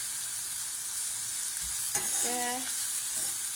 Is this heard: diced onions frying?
yes